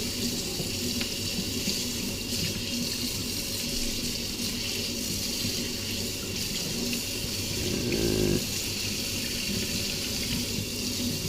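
Steady water running from a kitchen tap into a sink while an orange is rinsed after zesting, a continuous close hiss with a brief louder splash near the end.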